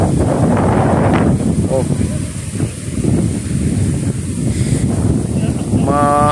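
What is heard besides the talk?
sea waves at Saud Beach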